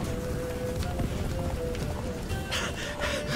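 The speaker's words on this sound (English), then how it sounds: "Run, Roach." The horse Roach gallops in The Witcher 3, a continuous rapid run of hoofbeats under a dense wash of game music and ambience, with faint voices mixed in.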